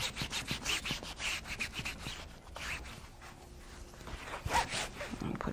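A cloth rubs finish into a carved wooden serving board coated with epoxy resin, making soft, repeated scrubbing strokes that are close but quiet.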